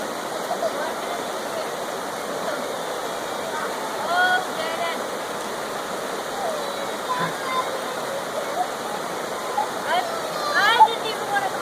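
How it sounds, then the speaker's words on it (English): A creek near a house flows with a steady, broadband rush and gurgle, constant and fairly close, with faint voices and small splashes appearing now and then over the water. "At our creek that we walked down to, close to our house."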